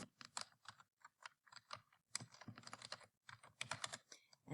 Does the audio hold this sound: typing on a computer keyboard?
yes